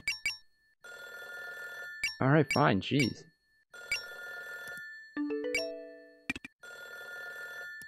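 In the video game Sakura Sakura, an electronic telephone bell rings in repeated loud bursts. A person speaks briefly between rings, and a few higher chiming tones sound near the end.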